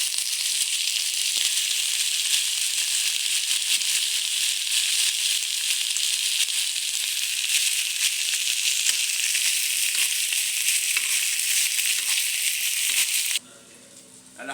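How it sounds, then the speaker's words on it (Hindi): Chicken frying in ghee for homemade shawarma, a steady dense sizzle and crackle running loud and unbroken close by, then cutting off abruptly near the end. "इसमें ये चिकन हम डालेंगे, भुनेंगे, उसमें फ्राई करेंगे।"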